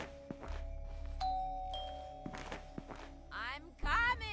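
A doorbell at a home chimes with two clear tones amid thumps and footsteps, while people talk nearby.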